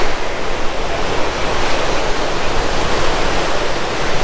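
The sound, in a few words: waves at Imperial Beach, California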